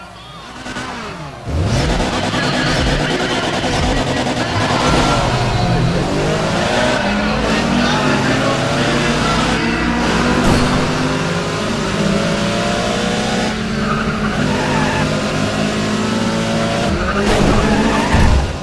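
Race cars in the video game Need for Speed ProStreet skid and screech through corners while engines rev hard, a loud, continuous roar of tire squeal and motor noise throughout.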